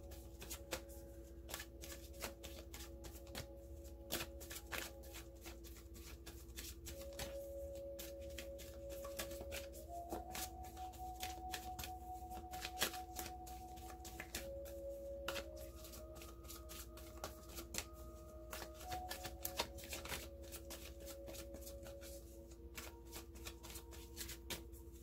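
Tarot cards being shuffled continuously for about 25 seconds, a steady dense riffling and sliding of the deck held close, with a soft sustained tone running underneath and no talking.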